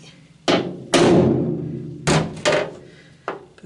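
Hammer blows on a centre punch mark drilling points on the body of a Citroën Traction 11B: five sharp metallic knocks, close and loud, spaced unevenly with short ringing decays, and no talk.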